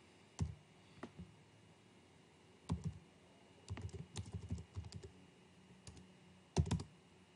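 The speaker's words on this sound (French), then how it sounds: "Je la tape pour les personnes qui souhaitent écrire ça." Scattered keystrokes on a computer keyboard, short soft bursts of typing with pauses between them, close and quiet, no talk.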